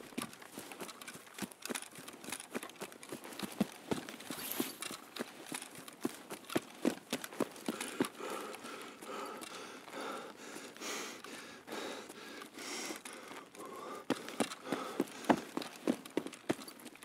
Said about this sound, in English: It feels like my footstep noises are stacked.